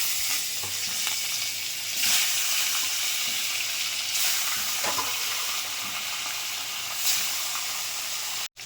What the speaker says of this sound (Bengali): মাছ ভাজাটা বসিয়ে দিয়েছি, ভাজা হোক তারপরটা